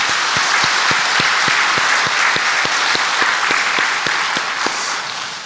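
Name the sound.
church congregation applauding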